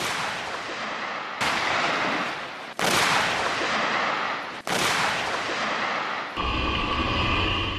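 Live-fire gun blasts from an armored assault unit during a day-and-night firing exercise in the mountains of eastern Guangdong, several loud, sharp booming shots with long rumbling tails, spaced a couple of seconds apart, with no talking.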